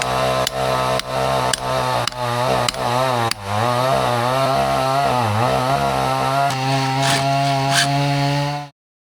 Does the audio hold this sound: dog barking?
no